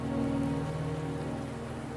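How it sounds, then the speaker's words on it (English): Steady rain patters on surfaces in a Wuthering Waves game scene, an even, unbroken wash of drops with no voices. "Don't worry, the rain won't last much longer."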